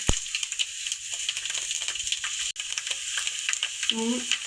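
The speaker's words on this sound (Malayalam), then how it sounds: "ഇത് അരിയിട്ട് ഒന്ന് മൂപ്പിച്ചെടുക്കുക" Raw rice frying in hot oil in a pan, a steady soft sizzle with scraping and stirring clicks, a brief clatter near the middle, heard close and alone.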